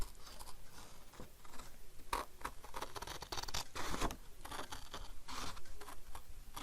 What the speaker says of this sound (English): Even using these arthritis scissors. Still a bit of a challenge.